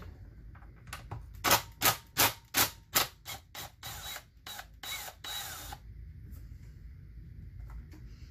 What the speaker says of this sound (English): I'll get that hardware off of there. I think we'll start with that. Nut driver.